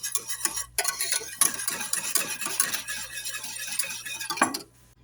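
Instant jelly mixture is stirred briskly in a pot, giving a close run of scraping, swishing strokes with light clinks of the utensil against the metal. The stirring stops abruptly near the end, leaving near silence.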